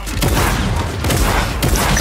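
Shotgun fire in the video game Fortnite, a few booming blasts over a dense, noisy game soundscape.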